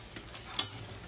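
Food fries in a pan with a soft, steady sizzle and faint crackles, and one sharp spatter stands out midway. The sound is close and fairly quiet.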